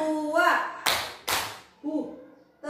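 Two sharp hand claps spaced apart by a teacher demonstrating a counted clapping routine, with a person speaking before and after the claps.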